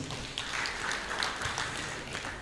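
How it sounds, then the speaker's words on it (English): An audience at a press-week governance event gives a round of applause, a soft, even wash of many clapping hands heard from some distance, fairly faint throughout. "Please, a round of applause"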